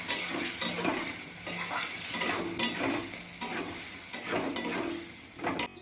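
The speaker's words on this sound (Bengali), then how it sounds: "মশলাটা এখন আমি কষিয়ে নেব।" A spice paste of ground ginger, cumin and garlic with turmeric and chili powder is fried in a pan for aloo dum, with crackling sizzle and repeated scraping stirs of a utensil close by.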